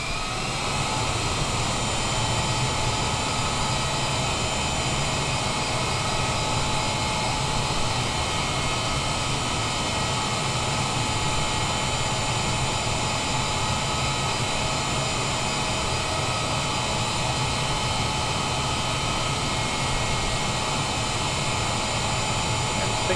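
A loud, steady jet engine whine and rumble holds without a break, like a Boeing 787 Dreamliner airliner rolling slowly while taxiing, in a flight simulator game.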